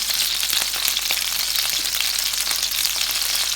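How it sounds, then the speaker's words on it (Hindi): Tomatoes frying beside aubergines in a pan of hot oil, a loud, steady, dense sizzle that holds evenly from start to finish. "ताकि टमाटर भी हमारे नाइसली फ्राई हो जाएं और ये सॉफ्ट हो जाएं।"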